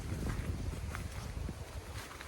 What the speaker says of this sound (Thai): สัมผัสได้เลยว่าลมดีมากๆ